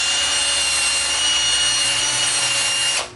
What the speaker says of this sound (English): I think I need to just drill it out just a little bit